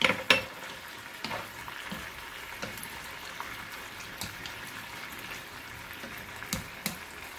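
Eggplant and spring onion stir-fried in a pan for adobong talong, with soft sizzling under scattered spatula scrapes and light clinks, an occasional louder knock standing out.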